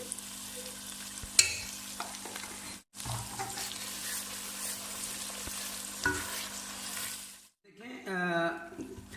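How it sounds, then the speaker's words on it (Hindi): Chicken gravy with garam masala fries and sizzles in oil while a spoon stirs it steadily, with a brief burst of running tap water near the end. "इसे भी हम अच्छे से भून लेंगे।"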